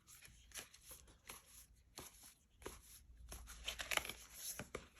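Tarot cards riffle and slap in quick bursts, a crisp shuffling pattern repeated several times, close and fairly quiet, with no talking.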